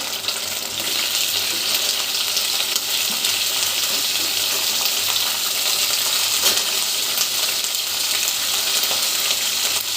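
Green chillies and tomato pieces frying in oil for pachadi: a loud, continuous hissing sizzle, close and steady throughout with no talk.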